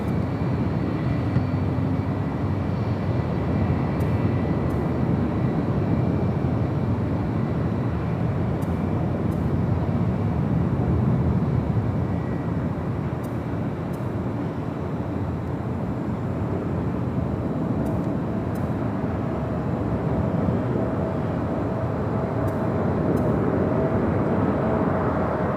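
A United Airlines Boeing 757 bound for Honolulu taking off from runway 24 left at LAX, a steady broadband jet roar that holds throughout and swells slightly near the end, heard from a distance with no talk.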